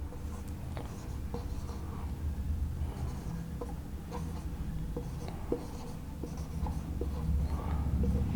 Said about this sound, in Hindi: 8 का एक बार पहाड़ा लिख लेते हैं।